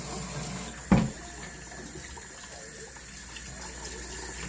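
Cold water runs steadily from a kitchen tap over raw chicken being washed for jerk chicken, a continuous rushing splash with one sharp knock near the start.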